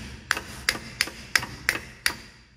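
Six sharp metallic taps ring out at a steady, deliberate pace as an axle yoke is driven onto a Dana 44 front axle, each strike crisp and close with a short decay in a quiet workshop.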